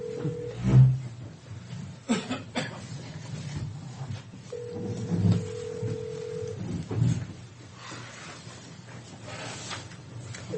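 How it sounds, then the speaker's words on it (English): A desk telephone in a county commissioners' meeting room is dialed for an outside line, giving faint, scattered tone beeps with a couple of longer steady tones against quiet room noise. "Dial the phone."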